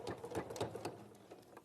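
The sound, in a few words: sewing machine stitching half square triangles together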